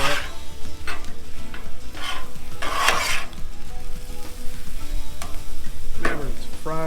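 Chicken fried rice on a Blackstone griddle gives a loud, close sizzle as a spatula mixes it, with repeated metallic scrapes and clanks against the flat-top over the constant frying.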